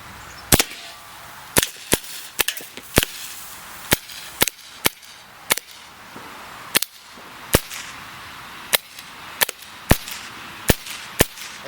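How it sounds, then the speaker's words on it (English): Umarex HK P30 CO2 pellet pistol fired outdoors at pop cans, about twenty sharp, close, loud cracks spaced irregularly over a quiet background, with no talking. "it's been a while since I've done a field shooting test of pop cans"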